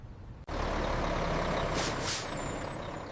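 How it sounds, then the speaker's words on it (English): A big garbage truck coming down a residential street: a loud, close diesel roar after a brief dip, with two sharp hissing bursts like air brakes and a thin high beeping tone. "The big garbage truck is already coming right down our street."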